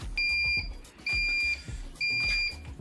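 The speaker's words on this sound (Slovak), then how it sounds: "Po spustení zvukového signálu platňu otvoríme, zvukový signál sa stíši" Three repeated electronic beeps from the timer of an AP2029 heat press (38x38 cm) set to 190 °C, each a bright two-tone pulse lasting about half a second, evenly spaced and fairly loud, with no talk.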